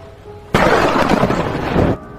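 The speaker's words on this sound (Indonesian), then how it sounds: "Curtis mendengar suara petir yang begitu menggelegar" A loud, close thunder clap roars up abruptly and rumbles broadly for over a second before cutting off, with no voices over it.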